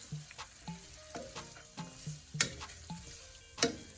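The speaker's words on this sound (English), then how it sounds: "we'll give this a decent stir" Spoon stirring sautéing peppers and other ingredients for Jamaican-style king fish steaks in a pot, with a soft sizzle beneath and a few sharp scrapes and clinks against the pot.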